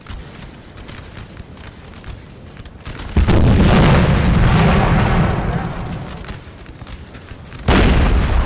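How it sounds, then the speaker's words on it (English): Artillery fire in the video game Napoleon: Total War comes as heavy booming blasts with a long rumbling roll, loud and close, over a constant din of battle. "This artillery piece, they got a perfect field of fire here."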